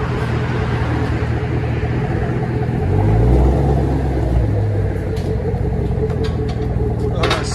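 A Chevy Camaro SS 6.2L V8 with its mufflers removed idles nearby with a deep, steady rumble that swells briefly midway, while a person talks over it.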